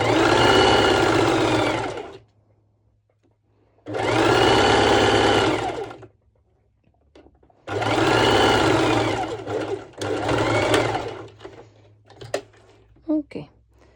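A sewing machine stitching the side seams of a twisted knot halter-neck crop top, running in three loud sustained bursts of a couple of seconds each separated by pauses, with a few faint clicks near the end.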